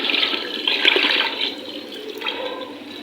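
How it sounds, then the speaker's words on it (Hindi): Water poured into a pot of degi-style chicken korma, about half a kilo from a filled bottle, a steady loud rushing pour that fades toward the end. "अब मैं इसमें शामिल करने लगी हूँ पानी"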